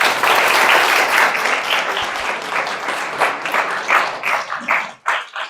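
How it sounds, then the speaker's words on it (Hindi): A class of students in a chemistry lesson claps together, a loud, close burst of many hands that carries on for several seconds and then breaks into scattered, uneven claps as it winds down. "तालियां बजा दो भाई एक बार।"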